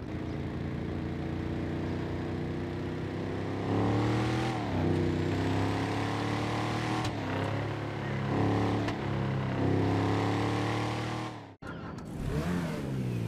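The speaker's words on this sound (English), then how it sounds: "You got the Slam Band Custom that have great V8 choppy sounds" Custom Slam Van V8 engine from GTA Online, a choppy cruiser-style V8 revving loudly and steadily up close, with repeated rises and dips in pitch through the run.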